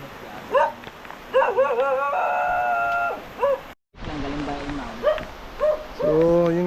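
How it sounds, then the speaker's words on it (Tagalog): Around 40 dogs bark and yip in bursts, some high-pitched and whiny, close by, with people's voices mixed in among them. "guys maraming aso dito"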